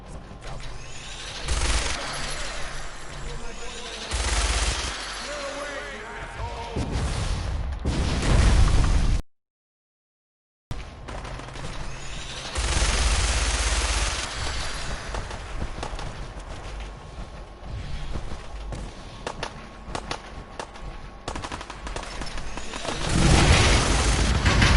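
A minigun firing in Fallout 4, with long loud roaring bursts of rapid fire and booming impacts. A brief dropout interrupts it, then the heavy sustained firing resumes, dense and close throughout with no talk.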